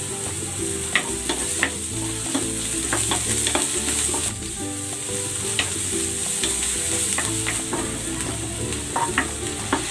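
Garlic and onion fry in a pan, a loud continuous sizzle with frequent scraping and stirring clicks throughout, no voices.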